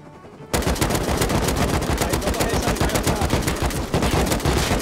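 Rapid automatic gunfire in the video game Rust during an oil rig fight, a loud, dense burst of shots starting abruptly after a brief quiet moment and continuing nearly without pause to the end.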